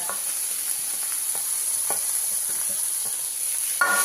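Chopped tomato and curry leaves frying in a pan: a continuous hissing sizzle with soft crackles and a few light taps of stirring, close up with no talk.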